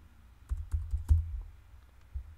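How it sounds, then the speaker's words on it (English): Several soft keystrokes land on a computer keyboard in a quick uneven burst, then one more press after a pause, quiet and close. "So we just go to our effects and type in grid."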